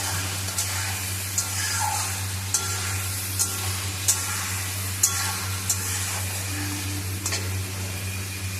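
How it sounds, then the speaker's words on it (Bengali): A sauce with a little black pepper powder and sugar sizzles in a kadai while a spoon stirs it, producing regular scraping strokes about every half second over a continuous hiss of frying, without speech. "এটাকে নাড়াচাড়া করে নেব।"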